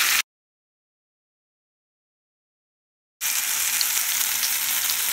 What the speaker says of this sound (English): So while it's searing